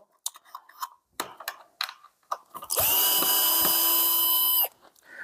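A power screwdriver whirs steadily for about two seconds after a few clicks and handling knocks, close and loud, then stops, unscrewing a screw from a DeLonghi ECAM23.420.SB coffee machine.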